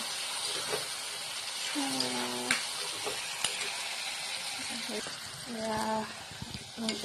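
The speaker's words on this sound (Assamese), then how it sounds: "ভাজাখিনি ধুনীয়াকৈ ভাজি ল'লোঁ" Food fries in a pan with a steady sizzle. Occasional stirring clicks and scrapes cut through, and voices are heard briefly in the background.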